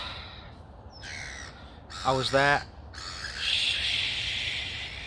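A loud, harsh bird call rings out, with chirpy calls before it and steady bird noise after, while someone speaks briefly.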